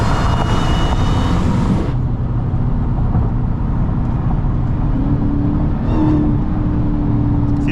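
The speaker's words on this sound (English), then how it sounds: "Alright, boys, just finna race this slingshot right here" Dodge Hellcat accelerating hard at night on Miami streets while racing a Slingshot, a loud, steady engine roar filling the whole stretch, nearby and continuous, with a brief swell toward the end.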